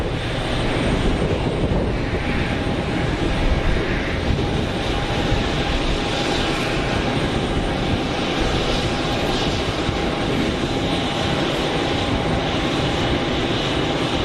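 An airliner in Norwegian UNICEF livery at Geneva Airport gives a loud, sustained engine roar with a thin steady whine above it, holding constant for the whole stretch with no voices.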